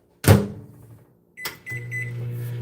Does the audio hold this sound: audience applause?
no